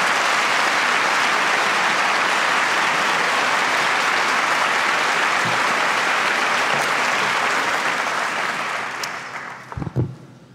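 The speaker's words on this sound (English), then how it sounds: "Let's give him a warm round of applause." A warm, sustained round of applause from a large audience at a bar association evening event welcoming a speaker to the podium, loud and steady throughout before tapering off at the very end.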